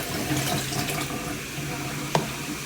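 Tap water runs steadily into an African cichlid aquarium tank during a large water change, a continuous close rushing and splashing with a brief splash near the end.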